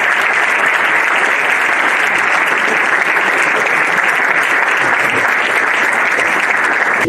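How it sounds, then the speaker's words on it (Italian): A large audience claps loudly and continuously for football coach Roberto Mancini, a thick unbroken wash of applause that holds steady before cutting off abruptly at the end. "Un applauso a Mr. Mancini."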